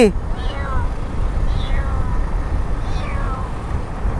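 A frightened cat lets out three drawn-out, wavering meows, spaced a second or so apart, over a steady background rumble.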